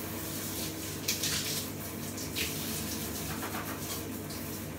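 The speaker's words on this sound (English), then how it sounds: "This is a very hot shower." Hot shower water running steadily down a shower unit, a continuous broadband hiss with occasional brighter splashes, close and alone without talk.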